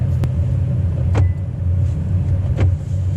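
A 2020 Chevy Bolt EV Premier electric car rolling along, heard from inside the cabin as a steady low road rumble with a few faint clicks and no engine note.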